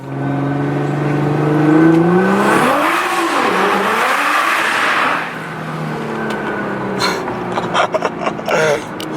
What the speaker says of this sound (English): when approaching any type of tunnel, you put your active exhaust in the open position with your valves, and then traction and transmission will be bumped up into race mode